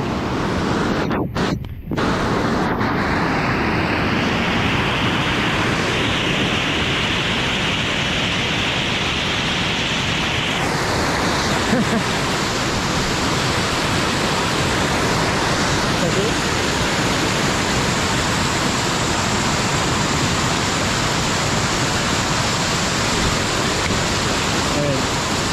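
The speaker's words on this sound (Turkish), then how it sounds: "Evet, yine bir şelale var ve buraya geçmek zorundayız." A mountain waterfall on a high climbing route roars loudly and continuously close by, a dense, unbroken rush of falling water with a brief dip near the start.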